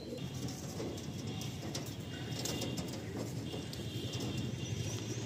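Pigeons in a loft coo softly and repeatedly amid a busy, fairly faint background of rustling and other birds, with no talking.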